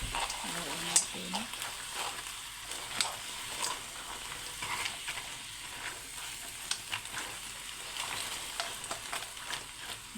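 Crab cooking in coconut milk is stirred in a pan, giving a soft, steady sizzle and simmer with light scraping and clinking, faint and fairly distant, while a voice murmurs briefly in the background.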